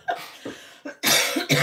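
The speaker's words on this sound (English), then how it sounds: "I am going to cough again." A person coughs in a close, indoor setting: four sharp, loud bursts in quick irregular succession, the later ones harsher and longer, with no talking.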